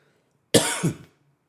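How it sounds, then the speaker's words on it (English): A single harsh cough, close and fairly loud, with a short rasping tail, alone in an otherwise quiet space. "I can't wait until I get this cough out of my system."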